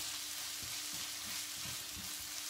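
Onions fry in a pan with a pinch of salt, a steady soft sizzle with occasional stirring scrapes, close and quiet, with no talking.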